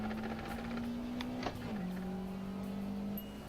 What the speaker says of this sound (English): Some of these drifts are handbrake drifts just because I want to test the handbrake